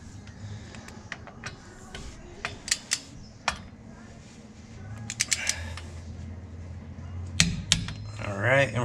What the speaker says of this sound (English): these cover bolts are going to be torqued down to